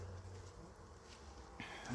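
A low, steady buzzing drone of many honeybees flying in to a hive, continuous and moderately faint, with a brief soft knock near the end.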